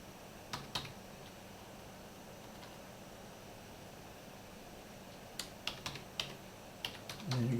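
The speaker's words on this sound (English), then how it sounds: "And then you're going to add in your password" Quiet keystrokes on a computer keyboard as a password is entered, a short burst of taps at the start, a long pause, then a quicker run of clicks near the end over faint background hiss.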